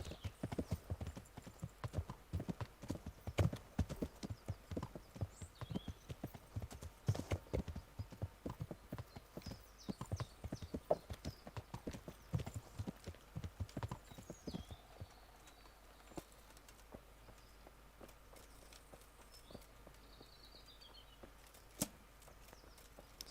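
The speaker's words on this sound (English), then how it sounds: "Oh, that was your horse." A horse's hooves clip-clop at a steady trot in the video game Kingdom Come: Deliverance, close and rhythmic for about fifteen seconds, then thinning to a few scattered steps.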